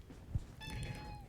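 A cat gives one short, fairly faint meow indoors during a craft session, heard alone over quiet room tone with a soft thump just before it.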